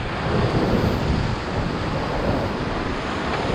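Whitewater on the Ocoee River crashes around a raft, a loud continuous rushing roar with heavy low rumble and wind buffeting the microphone, with no voices.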